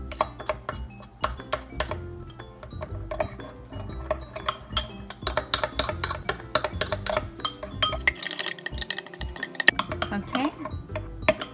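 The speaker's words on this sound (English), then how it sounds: "So I use usually like a 1-to-1 ratio of honey and gochujang. I'm going to mix this up." Honey and gochujang sauce is stirred in a bowl, a quick run of light clinks and taps of a utensil against the dish that keeps going, with a voice heard at times.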